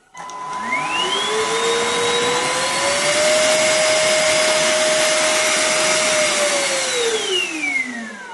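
A Karcher FCV 3 cordless vacuum mop, a wet-and-dry floor cleaner, spins up with a rising whine and holds a loud, steady motor hum for several seconds before winding down. The sound is close and fills the room.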